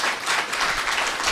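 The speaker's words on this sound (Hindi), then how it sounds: "ताली होनी चाहिए उस शख्स के लिए।" Audience applause at a Teachers' Day gathering in Roorkee, a steady wash of many hands clapping that stays dense and even throughout the short stretch, with no voices over it.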